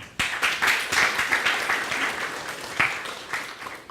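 Listeners at a Go programming conference talk in Minsk applaud the speaker, a burst of moderate, fairly close clapping from a small audience that swells and fades over a few seconds.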